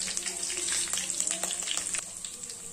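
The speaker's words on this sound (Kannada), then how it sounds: "ಎಣ್ಣೆ ಬೆಚ್ಚಗಾಗಿಂತ ಸ್ವಲ್ಪ ಸಾಸಿವೆ, ಕರಿಬೇವು, ಶುಂಠಿ ಬೆಳ್ಳುಳ್ಳಿ ಪೇಸ್ಟ್" Mustard seeds, curry leaves and crushed ginger-garlic paste frying in warm oil for a vegetable kurma, a steady close sizzle with scattered light crackles and pops throughout.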